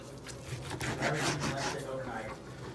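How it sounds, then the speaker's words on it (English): A knife saws through the point of a smoked Texas-style brisket, cutting it in half. A steady rasping, rubbing stroke sounds up close, with a faint voice in the background. "let's cut this point"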